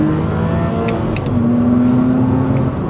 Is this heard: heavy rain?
no